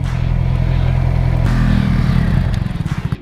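A Honda CB650R motorcycle engine revs loudly up close, a steady throaty drone that rises, then settles into a choppy idle at the end.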